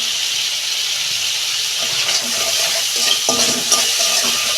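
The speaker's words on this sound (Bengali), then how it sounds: "2 মিনিট আমি মশলাটা কাঁচা গন্ধটা চলে যায় সেরকম আমি 2 মিনিট কষতে নেব" A spice mixture with salt fries loudly in a pan, a constant close-up sizzling hiss with scraping and stirring sounds growing busier toward the end.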